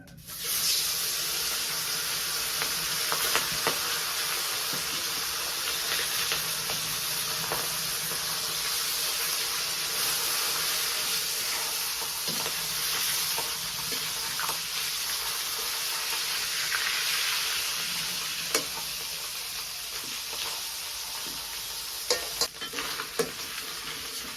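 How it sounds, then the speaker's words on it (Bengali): Fish frying in hot oil gives a loud, steady sizzle and hiss that runs without a break from start to finish, with a few faint clicks and stirring sounds and no talk. "তেলটা দিছি আর আমি মাছ ভাজি করবো"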